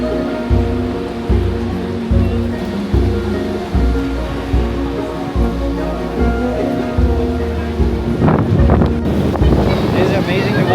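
Strong gusting wind buffets the microphone beside a powerful Yosemite waterfall, a loud steady roar with rhythmic thumps of gusts and spray building toward the end.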